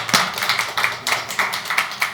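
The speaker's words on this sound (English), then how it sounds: "Applause now?" Short bursts of audience applause at a seminar, a few sparse claps repeating in an uneven rhythm at moderate distance, thin rather than a full ovation.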